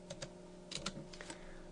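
Quick, light keystrokes on a computer keyboard, a handful of soft clicks in an uneven burst entering a number, faint and close against a low steady hum.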